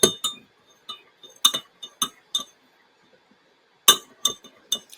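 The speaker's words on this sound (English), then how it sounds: "I'm going to stir that honey in a little more." A spoon stirs rose honey into tea in a glass, making a series of bright, close clinks in irregular bursts separated by short silences.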